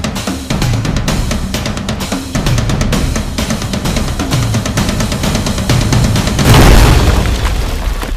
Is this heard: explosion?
yes